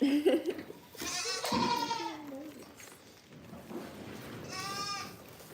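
Goats on a small home farm bleat in several loud, wavering calls, one near the start and another toward the end, with a brief higher cry between them and soft background movement.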